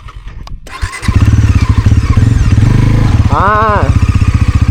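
A Bajaj NS400 motorcycle engine starts and settles into a loud, throbbing idle with a brief rev partway through, close to the listener.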